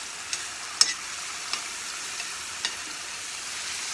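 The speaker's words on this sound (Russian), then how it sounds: "Помидор добавили, все перемешали." Quiet sizzling of tomato frying with vegetables in a pan for borscht, with a few soft scraping stirs and light clicks of a utensil.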